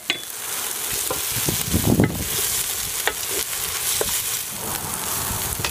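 Leftover chermoula marinade sizzles steadily in a saucepan over medium heat, a continuous bright frying hiss with occasional stirring clicks.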